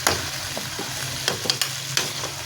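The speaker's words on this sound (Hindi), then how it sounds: "तो हमने गोश्त को भी इतना फ्राई नहीं करना, नॉर्मल सा फ्राई करना है।" Meat fries in a pot for white yakhni pulao, a steady low sizzle with occasional stirring scrapes and clicks close by, no talking.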